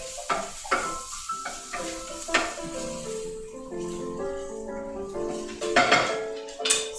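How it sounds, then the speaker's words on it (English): Caramelizing onions tossed in a pan with a small wooden spoon give a few clattering knocks against the cookware, a soft sizzle underneath, and a voice briefly speaking partway through. "So we have our onions caramelizing. Let me just do a quick toss."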